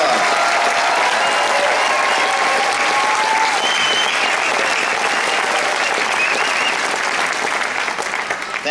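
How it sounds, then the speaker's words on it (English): Sustained, dense applause from a large audience at a graduation-style hooding ceremony, continuous clapping for several seconds with scattered voices and cheers mixed in, tapering slightly at the end. "And I'd like to give them all another round of applause."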